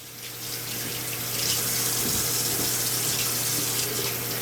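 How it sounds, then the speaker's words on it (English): Kitchen tap water pours steadily into a sink during handwashing, a continuous close rushing hiss with a low steady hum underneath and no talking. "I always like to wash my hands right after I put the meat in the skillet"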